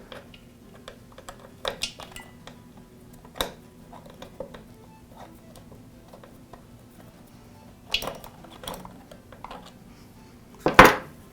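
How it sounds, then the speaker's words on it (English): A screw is backed out of the pressure switch bracket on an air compressor, producing faint, scattered metallic ticks and light clinks of tool on metal, with a louder rattle near the end. "Now I'll remove the screw that secures the pressure switch bracket to the housing."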